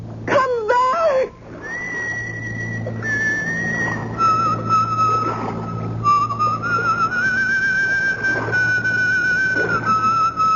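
A woman whistles a long, wavering tune from up close, with a few quick chirps at the start and then a sustained melody over a steady low hum. She is a pipe-smoking lady wearing a cutlass at her belt, heard in a radio mystery drama.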